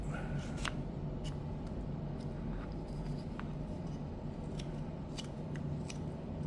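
Close knife strokes paring a wooden Jack Skellington pumpkin-on-barrel carving, a run of short, crisp scraping cuts repeating at an uneven pace over steady background hiss.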